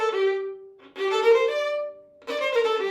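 Violin playing short groups of notes from a Mozart sixteenth-note passage, three clear bowed phrases separated by brief pauses, close and solo.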